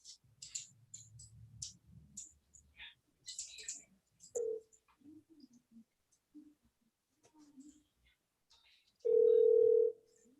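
During a remote committee meeting, a telephone dial tone sounds while someone tries to reconnect a dropped call. The steady tone lasts about a second near the end, after soft clicks and brief quiet speech.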